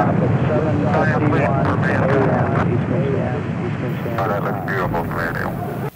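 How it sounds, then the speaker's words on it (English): Space Shuttle Challenger's rocket engines roar at liftoff, a loud, steady broadband rumble lasting throughout and cutting off abruptly at the end, with launch commentary voices running over it. "we have ignition sequence start. The engines are on."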